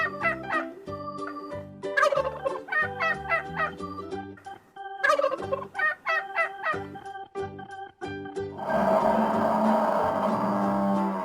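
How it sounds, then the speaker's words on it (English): Turkey gobbling in a farm-animal nursery rhyme, a loud rattling gobble bursting in near the end after a stretch of cheerful, rhythmic backing music. "Turkey."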